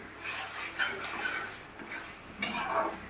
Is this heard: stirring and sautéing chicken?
yes